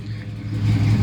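A 1984 Chevy C10 Silverado pickup engine runs steadily during a cold start, a close, loud low rumble with a slight rise in revs toward the end, no talking.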